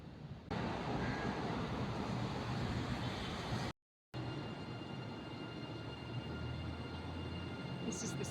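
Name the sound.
train arriving at KL Railway Station, service for Batu Caves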